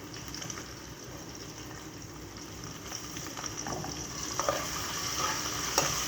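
Ginger sautés with fried onions in a pan, a soft continuous sizzle close by, growing a little louder near the end, with a few clinks and stirring scrapes and no voices.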